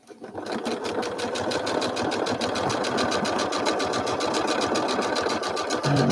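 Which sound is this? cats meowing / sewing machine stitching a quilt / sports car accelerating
sewing machine stitching a quilt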